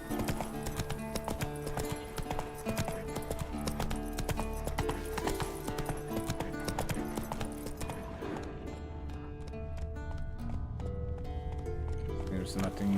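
Roach, the horse in The Witcher 3, trots in a steady rapid clip-clop of hooves that runs throughout, layered under dense game music and occasional talk.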